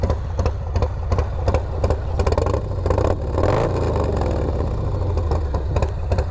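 A Harley Low Rider S motorcycle with a 475 tune idles and revs nearby, a loud throbbing engine with pulsing beats and a faint tapping underneath, swelling briefly into a rev midway.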